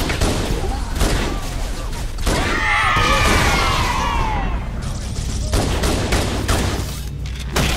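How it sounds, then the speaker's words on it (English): Dense gunfire rattles continuously in Halo while bullets whiz past in swooping streaks through the middle of the stretch, over a rumbling battle backdrop with scattered sharp cracks. "I can hear bullets whizzing around"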